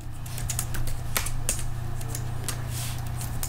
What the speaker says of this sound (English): And you just type